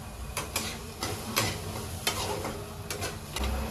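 Chickpeas fry in a pan with a soft continuous sizzle, punctuated by scattered sharp clicks and taps of stirring at an uneven rhythm, close and moderately quiet.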